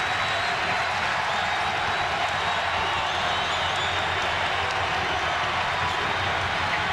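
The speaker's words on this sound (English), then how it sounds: "And here comes the crowd in the Hearnes Center." A basketball arena crowd roars at the Hearnes Center during a Kansas at Missouri college game, a steady, dense wall of cheering and noise sustained throughout without letup.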